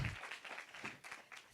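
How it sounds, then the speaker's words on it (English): Brief round of applause at a conference on contract management and auditing, faint patter of clapping from a room of attendees. "Once more, a round of applause for him."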